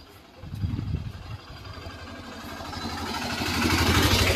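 An auto rickshaw engine approaches near Eravikulam National Park in Munnar, Kerala. Its low, clattering motor grows steadily louder as it draws closer.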